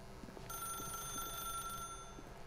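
A telephone rings in The Stanley Parable as a bright, sustained electronic ring that starts abruptly, fairly quiet and alone.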